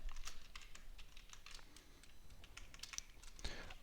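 Fingers tap steadily on a computer keyboard typing Python code, a quiet run of rapid, close keystroke clicks with no voice.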